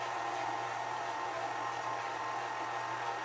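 Electric mixer creaming butter with white and brown sugar for oatmeal cookies: a steady, even motor whir with a constant hum, moderately quiet and unbroken, with no talk.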